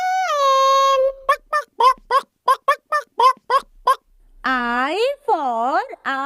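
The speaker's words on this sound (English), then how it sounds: "H for hen. H for hen." A hen calls loudly and close up, with a drawn-out tonal squawk followed by a quick run of about a dozen short clucks, then more long warbling cries, with no talking.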